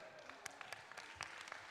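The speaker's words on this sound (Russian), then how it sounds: "И под бурные аплодисменты провожаем дуэт" Faint, brief applause from an audience at a dance competition after a dance duet, scattered claps with no voice over them.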